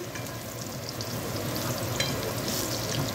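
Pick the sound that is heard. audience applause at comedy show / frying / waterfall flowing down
frying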